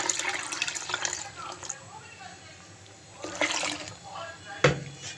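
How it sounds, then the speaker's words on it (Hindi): Water poured from a glass into a bowl of buttermilk and gram flour for kadhi, a close splashing pour in short bursts with a sharp clink near the end, while someone talks over it. "अब इसमें मैं तकरीबन 3 से 4 गिलास पानी के डाल दूँगी।"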